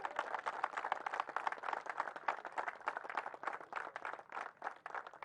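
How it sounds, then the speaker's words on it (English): Crowd at a T20 cricket tournament final applauding, dense steady clapping heard from a moderate distance, fairly quiet and continuous throughout. "Can we not request a big round of applause from all of you?"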